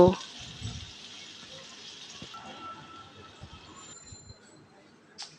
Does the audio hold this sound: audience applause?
no